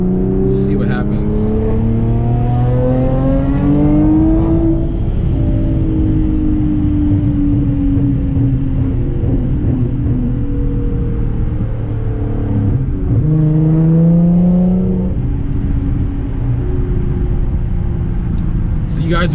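An APR-tuned Audi S4 heard from inside during a drive, its engine droning loudly and rising in pitch through the gears, with clear drops at each shift, under someone talking.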